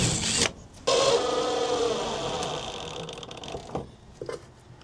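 A power drill whirs steadily for several seconds while driving a screw into a shelf inside a cargo trailer, with a brief burst at the start and fainter clicks and taps trailing off near the end.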